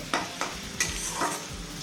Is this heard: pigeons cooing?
no